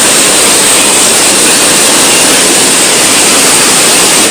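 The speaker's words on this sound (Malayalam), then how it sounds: "വെള്ളം ഇപ്പോൾ കുറച്ച് കൂടുതലാണ്, നല്ല ഒഴുക്കുണ്ട്." Strong, swollen river water rushes near a suspension bridge at Thumboormuzhi, a dense, loud, unbroken roar of flowing water with no voices.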